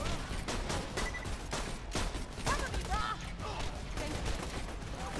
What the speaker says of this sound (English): Keep shooting, Ben.